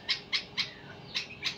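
A caged bulbul sings in five short, bright chirps spaced roughly evenly, close and clear over a quiet background.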